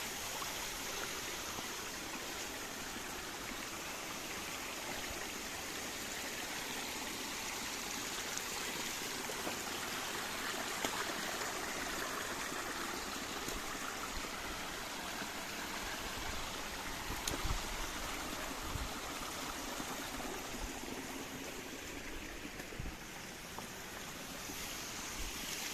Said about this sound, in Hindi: हर जगह से झरने फूट रहे हैं